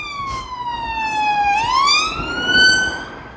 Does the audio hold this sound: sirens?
yes